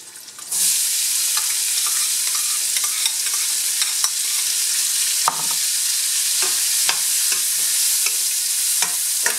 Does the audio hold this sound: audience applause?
no